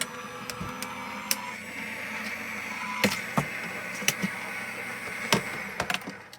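A cutting machine whirs steadily with scattered sharp clicks and taps, a few clustered near the end, close by and moderately loud.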